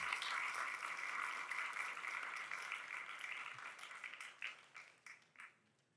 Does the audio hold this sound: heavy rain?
no